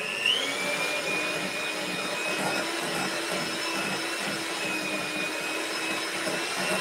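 An electric hand mixer whirs steadily while blending flour into a roll cake batter, a close, continuous high-pitched motor whine with faint scraping and no talk.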